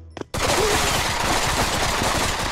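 Automatic gunfire in Pavlov VR, a sustained loud burst of rapid shots that starts abruptly after a brief quiet click and keeps hammering without pause.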